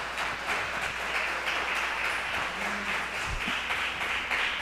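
A congregation at a Batista Nacional Atos church communion service claps together in a steady, dense wash of applause that fills the whole moment without letup.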